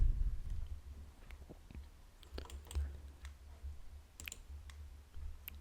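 Scattered clicks and light taps of typing on a computer keyboard during Linux command-line setup, quiet and close, with irregular keystrokes over a low background hum.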